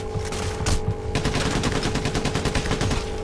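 Dense automatic gunfire from the video game Payday The Heist, with rapid overlapping bursts of shots that run loud and continuous with almost no pause.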